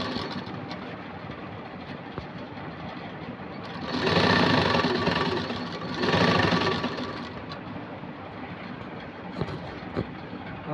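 Sewing machine stitching an Aari work princess-cut blouse: two loud bursts of rapid needle chatter, each about two seconds long, stand out over a quieter mechanical hum in a close indoor setting with no talk.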